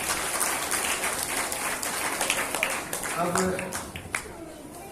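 Crowd clapping at a Kabir Jayanti gathering in a children's camp setting, a busy rattle of hands with scattered sharper claps, while people talk over it.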